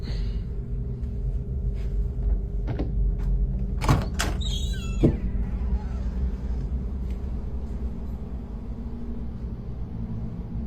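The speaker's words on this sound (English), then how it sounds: "I'm gonna open this door and it's gonna stop." An indoor door opens with a few sharp clicks and a short creaking scrape midway, over a steady low rumble and hum in a quiet room.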